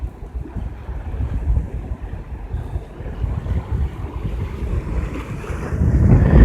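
Heavy surf crashing and rushing over a jetty at Fort Pierce Inlet, Florida, a continuous roar with wind buffeting the microphone, swelling louder toward the end.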